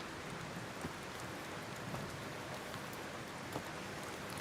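Steady rain falls as a faint, even hiss of pattering drops with a few slightly louder splashes, with no voices.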